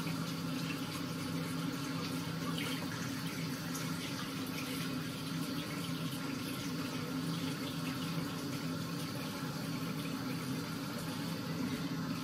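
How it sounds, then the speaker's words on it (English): Running water splashes steadily at a bathroom sink during face washing, a continuous hissing stream with faint sloshing, close and even throughout with no voices. "Right, let's give this face a wash."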